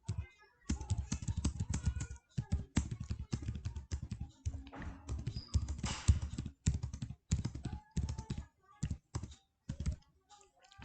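Numbers are typed and Enter pressed on a computer keyboard, giving close, crisp key taps in uneven clusters separated by short pauses.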